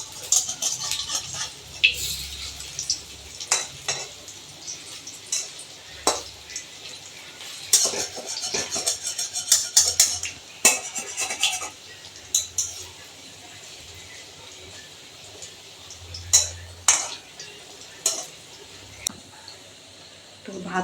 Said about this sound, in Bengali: ওটা এখন বড়া ভেজে নিচ্ছি